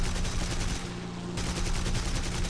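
Dewoitine D.520 fighter guns in War Thunder, rapid bursts of loud automatic gunfire with a short pause in the middle, over a steady engine drone.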